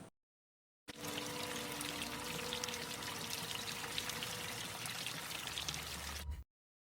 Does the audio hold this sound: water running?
yes